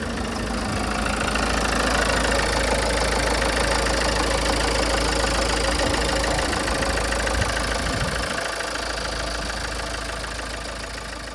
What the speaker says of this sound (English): start the engine and allow it to idle